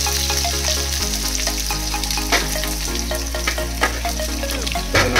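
Chopped onions go into hot oil for a bhindi (okra) fry, giving a loud, continuous sizzle with crisp pops and spatters over a steady low hum, close to the pan.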